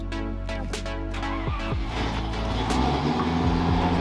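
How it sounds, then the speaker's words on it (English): A Land Rover Discovery 1 truck engine fitted with 35-inch Maxxis Trepador tires starts up close, a short cranking burst settling into a rising, rumbling idle with clunks early on. "So we'll fire up the truck"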